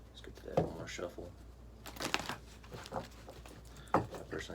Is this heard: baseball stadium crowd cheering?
no